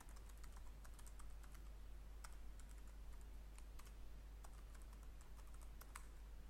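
Rapid, uneven keystrokes on a computer keyboard while a password is typed, close and clear, with brief pauses between bursts of clicks and a low steady hum underneath.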